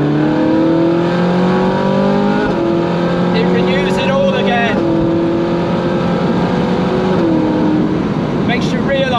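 A Ferrari 458 engine revs hard while driving, heard from inside the car as a loud, continuous high-pitched wail that climbs through each gear, with brief dips at the shifts.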